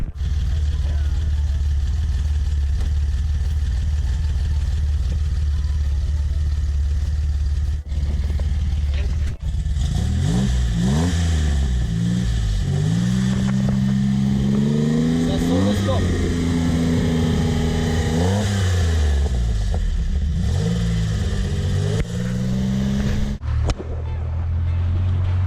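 A Renault Alpine GTA V6 engine starts at close range and then revs repeatedly, its pitch rising and falling in several swells before settling back, with a steady broadband roar and some talk underneath.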